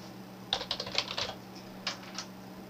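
Typing on a computer keyboard: two short bursts of crisp, close keystrokes, about eight quick taps then a pause and three more, over a faint steady electrical hum.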